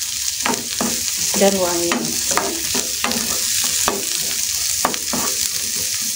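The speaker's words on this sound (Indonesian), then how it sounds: "Kita tumis sampai layu" Onion being stir-fried in a pan for a dish of enoki mushrooms and shrimp in oyster sauce, a steady close sizzle punctuated by repeated spatula scrapes and taps, with a brief spoken phrase.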